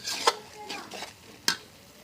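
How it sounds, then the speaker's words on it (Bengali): Spices stir-fried in a pan for a Bengali meat curry: a few sharp scrapes and clinks of a spatula against the pan over a soft sizzle, with two distinct louder strikes, close and without talk. "ভালো করে কষিয়ে নেব"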